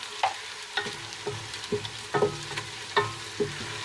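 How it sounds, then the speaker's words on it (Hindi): Garlic ginger paste being stirred into hot oil in a frying pan, with a soft sizzle underneath and a handful of distinct spoon scrapes and knocks against the pan, close up and without speech. "2 चम्मच लहसुन अदरक का पेस्ट मैं इनमें शामिल कर दूंगी। और जी तो इसमें इसे अच्छे से मिक्स करूंगी।"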